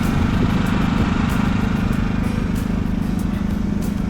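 A portable generator at a desert campsite powers an air pump: a loud, steady engine drone with a low rumbling hum, continuous and close, with no voices.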